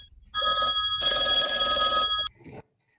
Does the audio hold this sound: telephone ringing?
yes